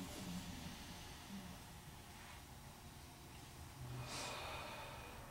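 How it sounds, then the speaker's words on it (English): Slow, quiet breathing during a mindfulness practice: faint airy breaths drawn in and let out at a relaxed pace, with two soft, longer exhalations standing out against a hushed room. "And you breathe."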